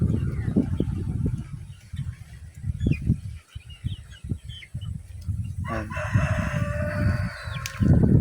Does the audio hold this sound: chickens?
yes